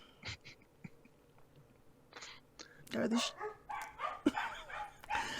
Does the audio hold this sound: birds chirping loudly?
no